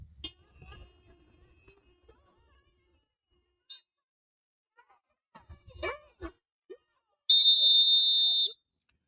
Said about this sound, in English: What kind of grown ass man walks around with a whistle and whistles at law enforcement?